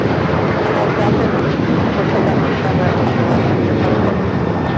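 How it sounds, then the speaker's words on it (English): A Frontier airliner takes off from runway 25 right at Los Angeles International Airport with a loud, steady broadband jet-engine roar. Wind buffets the microphone and a radio voice talks over it. "Frontier flight 1268, wind 240 at 11, RNAV to Docker, runway 25 right at Foxtrot, clear to take off."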